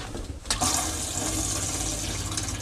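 Motorhome water pump running while priming the hot water tank, a steady rushing, whooshing water flow that surges in after a brief quieter start and continues evenly, close and fairly loud, with no talking.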